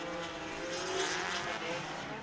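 A small drift car's engine roars at full power during pro qualifying at a drift competition, a loud, sustained, rasping drone held steady throughout.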